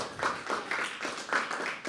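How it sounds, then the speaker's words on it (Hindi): Audience at a live poetry open mic clapping in a steady rhythm of repeated hand claps, close and moderately loud, with no talk. "तालियां बजा रहे हैं, और ज़ोर से बजाओ एक बारी"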